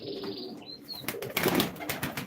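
Pigeons at a live pigeon auction, a soft coo and a whistle-like call followed by a flurry of wing flaps, close and moderately loud.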